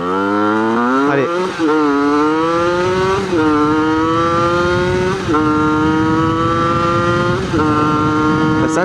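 Moped-class motorcycle with a 70cc Top Noir kit accelerating hard, a loud close two-stroke engine whose pitch climbs steeply through several gears, each shift briefly dropping the whine before it rises again.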